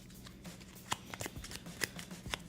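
Cards for a tabletop board game being shuffled by hand, a quiet close-up run of riffling snaps and soft flicks in irregular bursts, with no talking.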